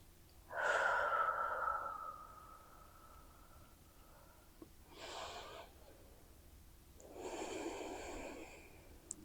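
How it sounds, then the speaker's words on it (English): Slow, deliberate breaths during a balance practice: a long, clearly audible inhale, then a pause, then two softer, airy exhales, all close to the microphone with no talking. "maybe doing a quick round of box breathing"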